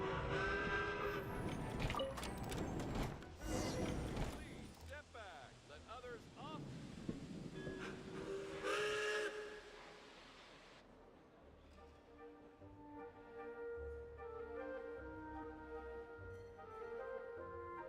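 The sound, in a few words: train and steam whistle at a station in the video game Genshin Impact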